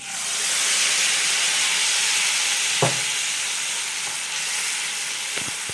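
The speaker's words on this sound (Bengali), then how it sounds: "গোটা গরম মশলাটা গরম করে নিয়েছি, এখন বেটে রাখা মশলাটা দিয়ে দিচ্ছি" Ground spice paste hits hot whole garam masala in a pan for a vegetarian paneer curry, giving a steady close sizzle throughout with a brief sharp crackle midway and a couple of faint clicks near the end.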